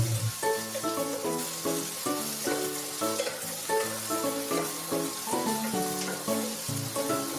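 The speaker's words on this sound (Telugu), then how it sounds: "కట్ చేసి పెట్టుకున్న ఉల్లిపాయ ముక్కలు క్యారెట్ ముక్కలు అలాగే క్యాప్సికం ముక్కలు కూడా వేసి ఒక రెండు మూడు నిమిషాల పాటు ఫ్రై చేసుకోవాలి" Onion, carrot and capsicum pieces sizzle steadily in a hot pan, a loud continuous frying crackle with faint stirring clinks throughout, no voices.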